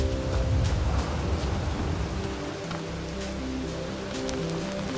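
Steady rain falls in the Bugsnax video game as a dense, even hiss over low ambient tones and a soft, shifting musical hum, with no voices.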